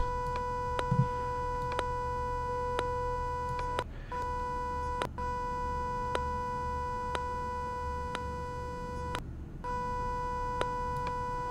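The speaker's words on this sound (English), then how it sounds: "Now what you're hearing is the harmonic overtones." A steady electronic tone with stacked harmonic overtones sounds continuously, cut briefly by two short gaps and a few sharp clicks along the way.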